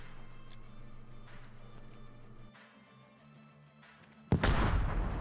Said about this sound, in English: I'm just gonna chuck a grenade over there.